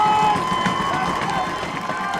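A loud crowd roars and cheers at a high school football game, a dense sustained wash of voices filling the stadium, with an announcer talking over it.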